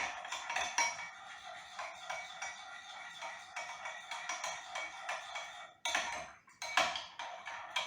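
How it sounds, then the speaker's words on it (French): A utensil clinks and scrapes steadily against a bowl while stirring gelatin sheets into milk, with a few sharper knocks near the end, close and fairly quiet. "je remue pour que ça fonde dans mon lait"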